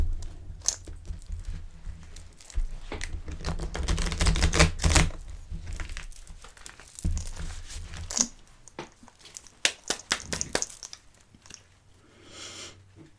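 A deck of tarot-style cards being shuffled by hand, a dense run of close papery flicks, riffles and soft slaps that swell in the middle and thin out into scattered taps toward the end, with no voices.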